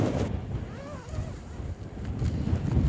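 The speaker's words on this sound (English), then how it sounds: "Well, it's really windy out here" Strong wind blows outdoors at a lakeland wild camp, rumbling and buffeting the microphone in uneven gusts, with faint distant sounds underneath.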